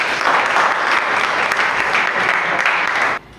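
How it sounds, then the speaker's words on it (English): Classroom students give a round of applause: dense, steady clapping from a group that stops abruptly just after three seconds. "let's give a round of applause to everyone"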